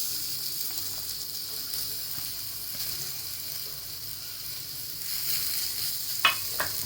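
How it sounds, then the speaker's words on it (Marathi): Steady sizzling and frying hiss from onion roasting on a hot griddle, continuous and close, with a brief clink of a utensil near the end. "गॅसवरती तवा ठेवला आता कांदा भाजायला टाकते"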